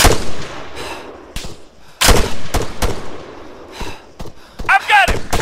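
Rifle gunfire in the military video game Arma 3, sharp loud shots fired singly and in quick pairs at irregular intervals, with shouted in-game squad commands between and over the bursts.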